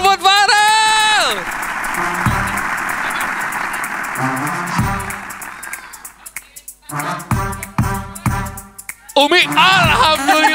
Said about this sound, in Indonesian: Wow, tepuk tangan buat Farel.